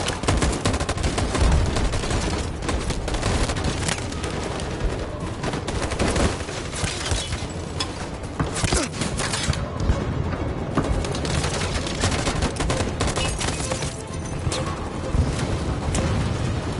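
Heavy, dense gunfire erupts right after a shouted command to fire, a dense fusillade of overlapping shots and booming reports, loud and sustained throughout.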